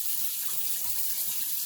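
Tap water runs steadily into a kitchen sink during dishwashing, a close, continuous splashing rush with no talk.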